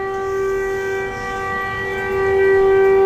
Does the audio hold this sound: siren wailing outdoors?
yes